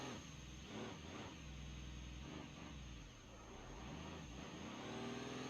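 A monster truck engine in BeamNG.Drive with a low-revving tune, rising and falling revs in a continuous mid-pitched drone, steady and up close, with a faint whine layered over the rumble.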